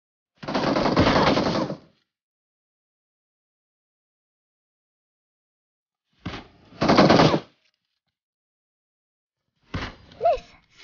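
Bursts of automatic gunfire from the mobile shooter Peacekeeper Elite, several loud rapid volleys separated by long silent gaps.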